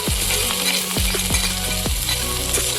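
Chopped onion and ginger hit hot oil for a Bengali fish chorchori, giving a loud, continuous close sizzle with several sharp spoon scrapes against the pan, no voices.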